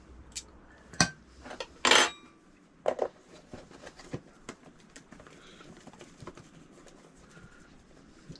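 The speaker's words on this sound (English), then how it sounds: "I put a couple of pieces in and I give them a mix up." Chicken pieces being tossed in a bowl to coat them, close clattering and knocking of pieces against the bowl in a few loud bursts, then softer scattered clicks and rustles, with no talk.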